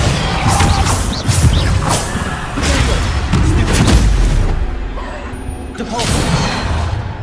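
Spell combat in the video game Hogwarts Legacy, with a Depulso force spell cast amid repeated loud booming blasts and crashing impacts, dense layered effects running throughout with a brief lull near the end.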